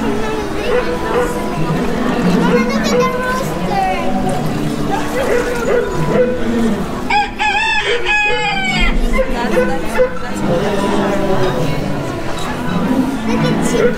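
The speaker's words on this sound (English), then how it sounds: "Look at chicken." Chickens cluck and a rooster crows in the middle, mixed with steady chatter from a crowd at Walt Disney World.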